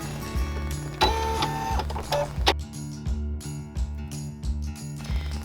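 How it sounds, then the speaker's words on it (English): An embroidery machine stitches the outline of a felt shrimp, giving a steady, close mechanical chatter of rapid needle strokes with a rhythmic thumping pulse and occasional higher whirs as the hoop moves. "The first step in this stitch out is the outline of the shrimp."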